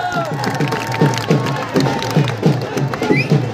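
A live crowd at a motivational speech event claps in a strong rhythmic unison beat while cheering and shouting, loud and close, with some voices calling out over the clapping.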